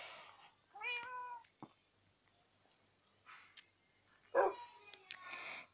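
Cats and dogs in Minecraft make several separate, fairly loud calls with short quiet gaps between them: meows, plus a sharp bark-like yelp near the end.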